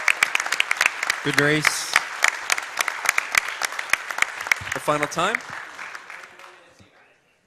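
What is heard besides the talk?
audience applause at a speedrun event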